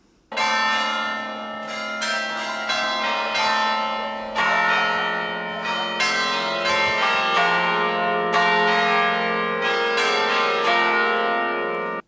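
Church bells at Bom Jesus ringing in a lively overlapping peal, loud and resonant, with repeated strikes blending into a rich sustained chime.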